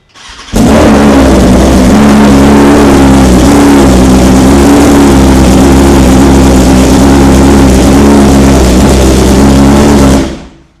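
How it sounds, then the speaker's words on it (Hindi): A BMW M Sport superbike fitted with an Akrapovic exhaust runs loud and close, a sustained, throaty engine roar that holds for about ten seconds before cutting off. "इसमें एक्रापोविक का एग्जॉस्ट लगा हुआ है"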